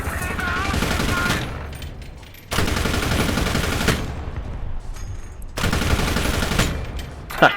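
Long bursts of rapid aircraft autocannon fire from the Sd.Kfz. 251/21 in War Thunder, loud and continuous, broken by brief pauses between volleys.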